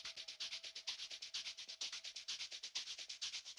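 Shaker loop from a future house track, a steady fast rhythmic shuffle of bright hissing hits repeating evenly, clear and alone with a faint tonal line underneath.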